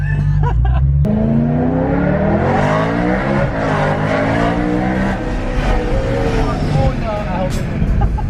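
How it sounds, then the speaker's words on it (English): A supercharged BMW M3 engine revs loudly and climbs in pitch toward high RPM, heard from inside the car, with voices talking over the strong, steady engine drone. "Take it to like high RPM and let go. You can hear it actually go off."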